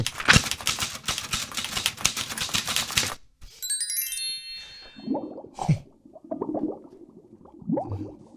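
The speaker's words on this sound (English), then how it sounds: "You know how sometimes when you type something in a typewriter and the things you type actually start happening." Rapid typewriter key clacks hammer steadily for about three seconds, then a bright bell ding rings out, followed by quieter scattered clinks and knocks.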